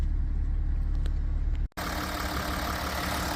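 A smooth, steady 3.0-litre V6 diesel SUV engine idle hums close by, briefly cut off for a moment before the same low drone continues.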